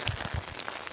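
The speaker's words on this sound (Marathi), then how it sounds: "पाऊस वाढलेला आहे बघू शकता." Rain falling steadily outdoors during the monsoon near a pomegranate orchard, a soft continuous patter with a few low thuds, heard alone for about a second.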